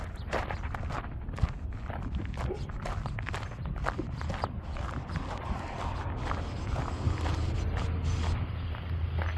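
Footsteps crunch over small rocks and gravel on a neighborhood path, a steady rhythm of gritty steps close to the microphone under light wind rumble.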